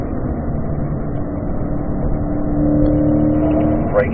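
A car accelerates hard on a track during a driving session with cones and brake markers, its engine note droning loud and close with a steady rising hum, briefly interrupted near the end by a faint tonal sweep.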